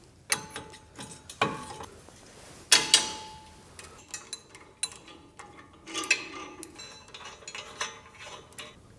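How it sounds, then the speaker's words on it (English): Wrench tightening bolts on a tractor while fitting a brush guard, a series of scattered metallic clicks and clanks, close and moderately loud, with a few sharper knocks and no talking. "I don't mind using wrenches, so that's what I'm going to do."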